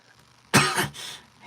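A single rough cough bursts out close to the microphone, followed by a softer throaty trailing sound, as a voice actor coughs in a quiet recording booth.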